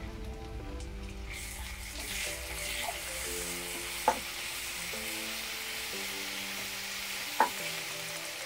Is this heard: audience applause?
no